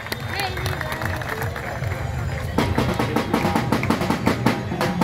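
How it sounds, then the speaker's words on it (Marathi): At an open-air kusti wrestling ground during the Bhairavnath festival at Uruli Devachi, Pune, a crowd breaks into dense applause for a birthday greeting, following an announcer's voice over general murmur. "त्यांना टाळ्या वाजवून सर्वांनी वाढदिवसाच्या शुभेच्छा द्या"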